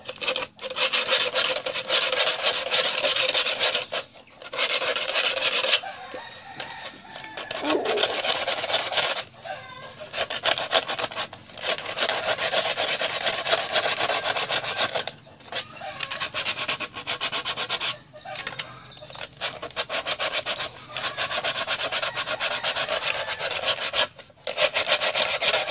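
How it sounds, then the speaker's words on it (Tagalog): A file scrapes the sharp cut edge of a recycled plastic container lid being made into a chicken feeder, heard as close, loud, rhythmic rasping strokes broken by brief pauses. "So lilihaan lang natin para hindi matalas,"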